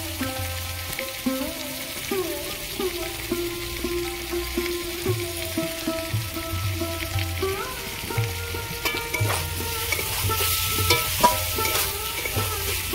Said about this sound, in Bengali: ভালো করে আমি নাড়াচাড়া করে নিয়েছি